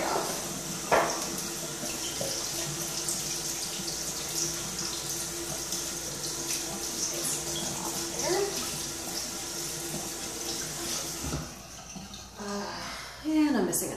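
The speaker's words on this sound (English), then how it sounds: "I have to rinse this off." A running bathroom tap pours steadily into a sink while scalp concealer is rinsed off fingers, a continuous moderate splash with small shifts as the hands move under the stream.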